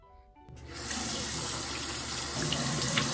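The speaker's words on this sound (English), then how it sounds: "So I just washed my face off with my CeraVe face wash." A bathroom tap turns on and runs steadily into the sink while a face is washed, a close rushing stream that rises quickly after a quiet start and continues without talking.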